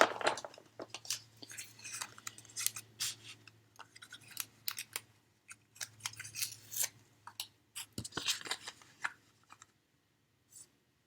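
Repeated crisp snips and crunching cuts of scissors through paper come in irregular bursts, close up, with short pauses between them and a faint low hum behind.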